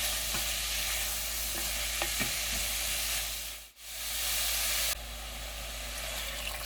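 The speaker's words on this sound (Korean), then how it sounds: "채 썰어 놓은 무가 고소함에 스며들도록 볶아줍니다." Julienned radish stir-fried in sesame and perilla oil in a hot pot gives a steady, close sizzle with stirring scrapes, briefly dipping quiet midway before the frying hiss resumes.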